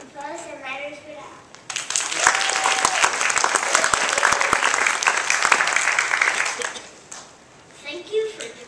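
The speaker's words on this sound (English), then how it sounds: "Let's give a round of applause to Phyllis and Leonard Friedel." Audience applause for Phyllis and Leonard Friedel at a Jewish academy's one-act plays event, a dense, sustained burst of clapping lasting several seconds after brief talk, then fading as a voice resumes.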